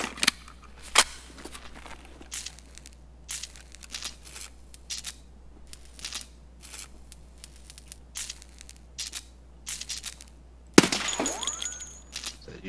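Gunfire in the online shooter Escape From Tarkov: irregular sharp cracks, some faint and distant, others close and loud, scattered across the stretch with a heavier burst of shots near the end.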